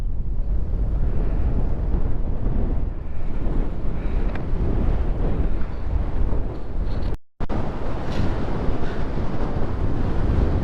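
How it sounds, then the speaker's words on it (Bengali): Strong wind buffets the microphone at a scenic viewpoint in Kaptai, a loud, steady roar of rumbling gusts that briefly cuts out near the end and then resumes. "এই জায়গায় যেই পরিমাণ বাতাস"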